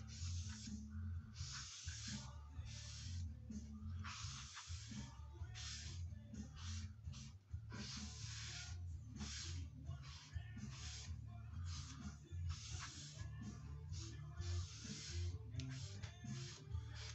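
A spray bottle spritzes repeatedly onto an ash bass guitar body, sharp hissy bursts in an irregular rhythm, close and fairly quiet.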